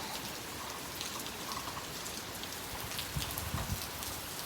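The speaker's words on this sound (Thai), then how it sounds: "ปทุมฝนตกแล้วจ้า" Steady rain falls in Pathum, Thailand, a dense hiss of drops hitting surfaces, unbroken throughout with a few heavier spatters.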